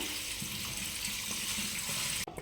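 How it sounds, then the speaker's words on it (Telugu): Taro roots are rinsed under a running kitchen tap, a steady close stream of water splashing into a sink with small shifts as the roots are handled. "ఒకసారి శుభ్రంగా వాష్ చేసుకుందాం"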